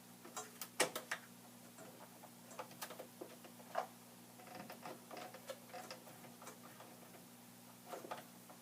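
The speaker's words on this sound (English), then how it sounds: "I'm just going to load it into my machine now" A Silhouette Cameo cutting machine loads a sheet of vinyl media with faint, irregular ticking and clicking mechanical sounds over a low steady hum, with no talking.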